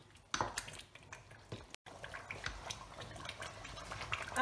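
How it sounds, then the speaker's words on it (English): Shito, Ghanaian black chili sauce, being stirred in a pot: quiet, irregular scrapes and wet clicks of a spoon against the pot, with a brief break midway and soft bubbling beneath. "So keep stirring frequently."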